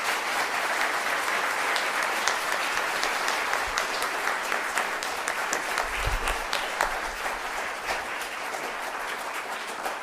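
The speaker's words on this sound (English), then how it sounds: "please join me in another warm round of applause for David Charbonneau" A warm, sustained round of audience applause for a speaker at a talk on finding inhabited exoplanets, dense continuous clapping from a sizable crowd lasting about ten seconds, steady and fairly loud, with a few low thumps partway through.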